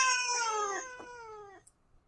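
A pet cat gives a long, drawn-out meow that slowly falls in pitch across most of the moment, close and clear in a quiet room, ending in silence.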